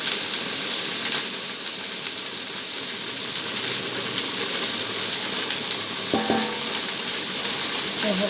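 Oil and black cumin seeds sizzle and crackle steadily in a kadai, a dense continuous frying hiss that stays even throughout with little else audible.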